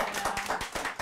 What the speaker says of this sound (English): I would like a round of applause for this